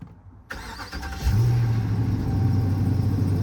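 A 2021 Ram Power Wagon with 400,000 miles starts up: a short crank, then the engine catches and settles into a steady, fairly quiet idle rumble heard up close.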